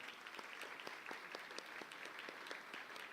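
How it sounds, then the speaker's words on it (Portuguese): A crowd at a São Paulo municipal election campaign event applauds steadily, a dense patter of many hands with a few sharper claps standing out, heard fairly faint and distant. "uma salva de palmas"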